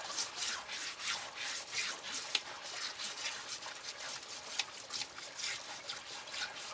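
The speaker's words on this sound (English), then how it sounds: "Just scrub down some of the dust that's on there." A brush scrubs dust off a gold sluice, giving repeated wet, rhythmic scrubbing strokes with faint trickling water, close and moderately loud.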